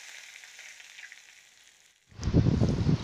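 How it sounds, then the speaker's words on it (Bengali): Curry leaves dropped into hot oil in a kadai for tempering, with a faint hiss first, then a sudden loud, crackling sizzle that bursts up and keeps spitting. "এবার আমি কড়াইতে তেলের মধ্যে দিলাম কারি পাতা ফোড়ন"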